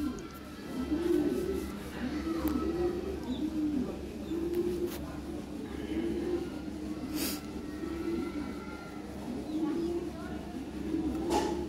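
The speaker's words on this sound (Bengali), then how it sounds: "ফ্রেশ বেবি পাবেন আপনারা। হ্যাঁ, দেখেন কি জিনিস।" Lahori pigeons coo in a steady series of soft, rolling calls, repeating every second or so, close by in a loft, while someone talks in the background.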